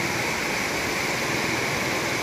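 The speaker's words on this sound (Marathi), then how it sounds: "मोर नदीच्या पुलाखालून हे पाणी वाहत आहे।" The Mor river flows under a bridge near Amoda village as a constant, loud, broadband rush of water with no breaks.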